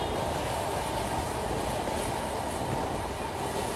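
The Sundarban Express, a passenger train on the Dhaka to Kushtia route, rumbles steadily along the rails. The loud, continuous roar of wheels and carriage is heard close by from onboard, with no talk.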